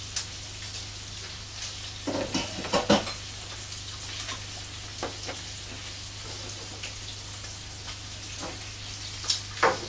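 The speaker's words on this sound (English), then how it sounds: "It's the sound of my water pump in the background there." A water pump runs steadily in the background of a leatherworking space as a leather shoulder bag is made, a low continuous hum beneath faint scattered clicks and handling noises.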